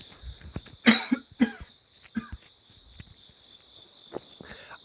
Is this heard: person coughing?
yes